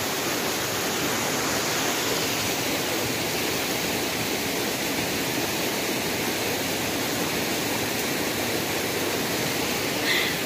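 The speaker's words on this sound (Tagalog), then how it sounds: "Very nice. The falls." Odette Falls roaring in a steady, loud, broadband rush of falling water that continues unchanged throughout, with no voices audible over it.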